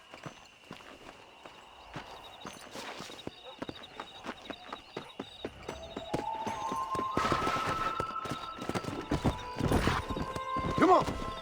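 Horse hooves clip-clop in the video game Red Dead Redemption, starting as a steady walking rhythm and building into a louder, faster gallop with whinnies and occasional voices.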